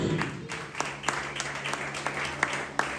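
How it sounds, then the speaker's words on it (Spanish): Congregation applauding in a church during a sermon, a steady patter of clapping with a few sharper claps standing out over a low background hum. "Denle ese aplauso a Jesús."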